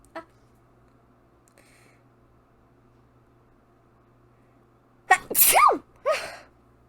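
Two sharp sneezes close together near the end, loud and close, after a long stretch of quiet room hum.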